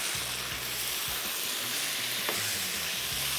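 Keema mixture with salt and kasuri methi stirred and fried on a hot tawa, giving a steady close sizzle with repeated scraping strokes of the spatula throughout.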